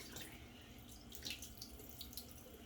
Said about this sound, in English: now I'm gonna just put that on straight cold water out of the tap.